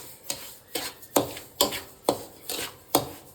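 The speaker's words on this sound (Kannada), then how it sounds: "ಇದನ್ನು ಘಮ ಬರೋ ತನಕ ಹುರ್ಕೋಬೇಕು" Rice grits roast in a pan while a spoon stirs and scrapes, a rhythmic series of about eight sharp scraping strokes, close and clear, with no talking.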